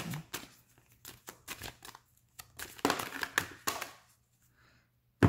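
Tarot cards are shuffled by hand in a series of quick, crisp riffles and taps, with short pauses between bursts, close and fairly quiet.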